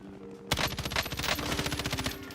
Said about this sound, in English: I shoot the guy